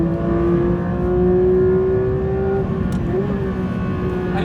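A Porsche GT3 RS Weissach howls flat out along a race track, its engine note rising steadily and loudly through the revs before a brief dip and climb, with no voices.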